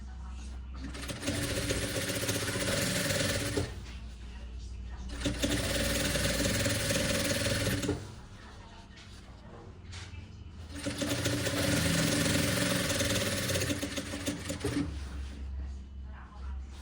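A sewing machine stitching a vest runs in long loud bursts of steady whirring, pausing briefly between runs, close and continuous.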